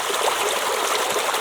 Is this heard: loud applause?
no